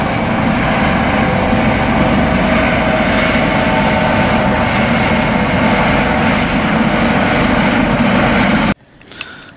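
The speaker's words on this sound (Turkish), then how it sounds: "İki tane helikopter çünkü alçaktan uçuyor, görüyor musun?" Helicopters flying low over Venice Beach, Los Angeles, produce a loud, steady rotor and engine roar that fills the scene, then cuts off abruptly near the end.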